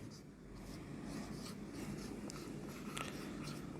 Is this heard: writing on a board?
yes